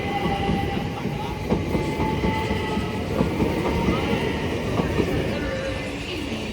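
A London Bridge service departs Clapham Junction, its wheels clattering and rumbling steadily at close range, with faint tonal squeals over the rolling noise.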